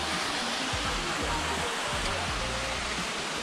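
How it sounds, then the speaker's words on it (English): A waterfall at the free hot springs of Bagni San Filippo in Tuscany roars as a constant, dense rush of falling water, with faint voices and low tones underneath. "Up there you can see the water. The waterfall."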